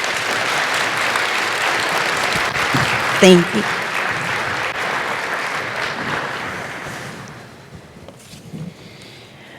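Audience applause at an aviation forum panel session, a broad sustained clapping from many people that gradually fades away, with a brief spoken thanks over it.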